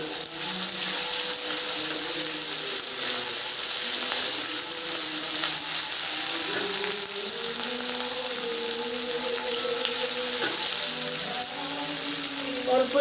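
Ginger paste and chopped tomato sautéing in a pan, a steady broadband sizzle that holds fairly loud and even throughout, with faint tonal hum underneath and no talking.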